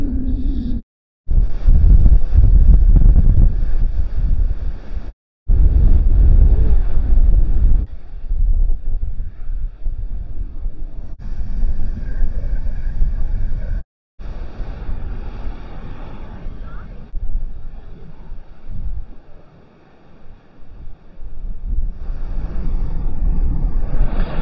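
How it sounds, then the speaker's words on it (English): Strong wind buffets the microphone on a windswept North Yorkshire Moors coastline, roaring low and loud almost throughout, with a few brief dropouts and faint surf and sea noise beneath. "The old sea, salty air in the face, very windy."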